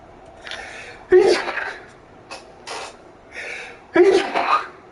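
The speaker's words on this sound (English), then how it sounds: "I got sneezes." Two loud, sharp human sneezes, about three seconds apart, each followed by breathy gasps and exhalations, close to the microphone.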